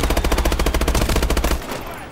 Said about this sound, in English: Somebody's shooting me over there, man.